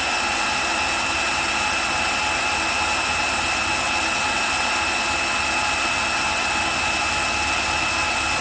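A Makita cordless drill runs continuously on a battery test rig, a steady loud motor whine with a high tonal hum and constant whirring, unbroken throughout with no talking.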